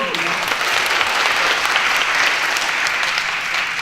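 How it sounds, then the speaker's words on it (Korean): Audience applause at a lifelong-learning forum in Ansan, a loud, dense, continuous burst of clapping from a full hall, steady throughout with no talk over it. "다시 한번 박수를 부탁드립니다"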